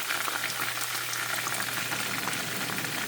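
Ginger and garlic sauté in a hot pan with a steady, dense sizzle and crackle, close and even throughout, with no voices.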